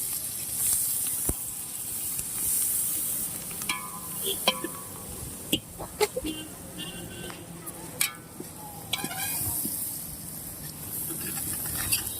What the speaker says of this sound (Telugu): 2 స్పూన్స్ పసుపు కలుపుకోవాలి మంచిగా మిక్స్ అయ్యేదాకా